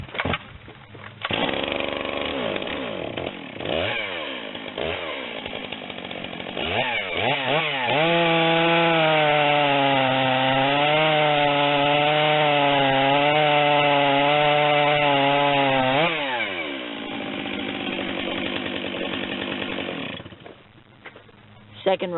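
A Stihl 461 or 661 chainsaw in a stock versus ported cutting comparison revs up and bites through a log, loud and close, with idle and throttle bursts before and after a long steady cut.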